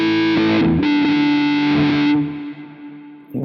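A distorted electric guitar chord sustains through a Quad Cortex wah in trigger mode, its tone shifting as the filter moves, then fades before a short pick attack at the end.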